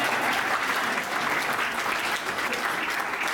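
Steady, dense applause from an audience at a poetry recital, sustained and even throughout with no voices breaking through.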